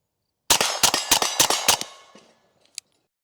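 Six sharp, evenly spaced pistol shots from a B&T TP9 fitted with a Gigliotti Rifleworks short stroke trigger ring out in quick succession at an outdoor range, trailing into a decaying echo and followed by a faint metallic clink.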